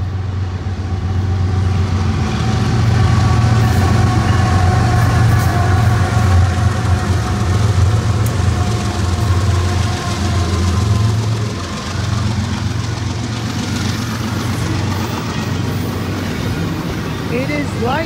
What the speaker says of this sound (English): Here comes train number